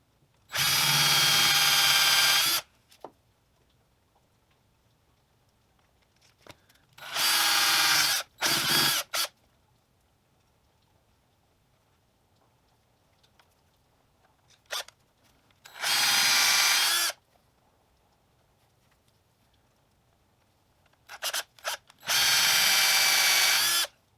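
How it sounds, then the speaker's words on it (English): A barrel trimmer cutting the ends of a pen blank for a Stratified EDC Duraclick pen. Four loud, close bursts of drill-driven grinding, each lasting about two seconds, are separated by quiet gaps with small clicks and handling noises. "when you're barrel trimming is you want to make sure that the barrel trimmer itself won't go all the way through"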